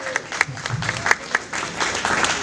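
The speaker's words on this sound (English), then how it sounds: "give her a huge round of applause" A comedy club audience at Maple Hall claps for the comedian's wife. The applause is dense and steady with sharp individual claps standing out, and a few whoops and cheers rise over it.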